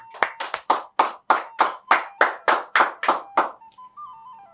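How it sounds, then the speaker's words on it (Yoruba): Quiz show audience clapping in a short rhythmic burst of about a dozen sharp, evenly spaced claps, close and loud, then a faint tone as the clapping stops. "Kẹ́jọ ẹ bá mi pàtẹ́wọ́ fún"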